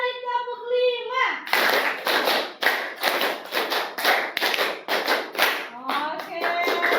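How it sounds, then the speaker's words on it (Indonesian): A group of children and a teacher in a classroom clap a rhythmic counted pattern, loud and close, in repeated bursts of claps separated by short pauses, with a sung or spoken voice briefly before and after. "Kita coba 3 kali tepuk 5."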